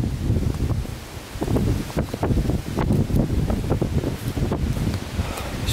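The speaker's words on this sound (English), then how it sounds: "It's so windy." Strong gusty wind buffets the microphone outdoors around an abandoned village, a loud rumbling roar that rises and falls with each gust, with faint rustling underneath.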